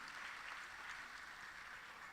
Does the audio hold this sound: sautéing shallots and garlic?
no